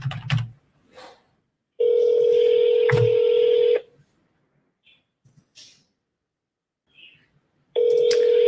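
Phone on speakerphone ringing out with two long, loud buzzing ring tones separated by silence, with a few soft clicks and taps in the pauses.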